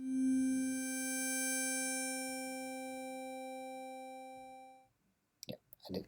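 Steady additive synth tone built in Max 7, a bright harmonic stack over a strong low fundamental, sustained for about five seconds then cut off, followed by a few faint clicks.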